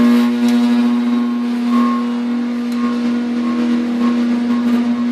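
A home furnace runs very loudly, giving off a strong, steady droning hum with a buzzy tonal edge. It holds unbroken and close throughout, and no one speaks.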